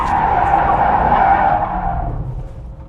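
Ford F100 pickup with a swapped GT500 engine drifting, its rear tires screeching in a loud, close sustained squeal that fades away toward the end.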